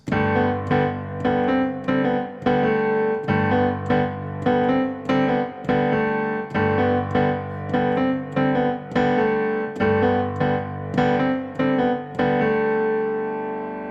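A keyboard plays the intro chord rhythm of a song, striking sustained chords in a steady rhythmic pattern, repeated stabs ringing together, full and close, with no talking.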